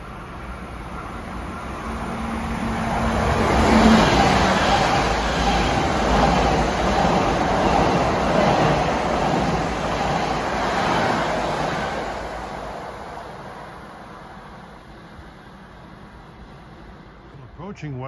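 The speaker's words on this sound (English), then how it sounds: "Approaching at 6:50 is train 2015 from Ronkonkoma." LIRR train 2015 from Ronkonkoma passing Carle Place on a triple-track line during the morning rush, a rumble that builds to a loud, rushing roar with clacking wheels and then fades slowly into the distance.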